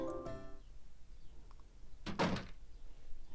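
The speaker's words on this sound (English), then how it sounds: "As soon as the door had shut" A door shutting in the Ikemen Vampire otome video game, a single short thud-like burst standing alone against a quiet background after a brief musical tone.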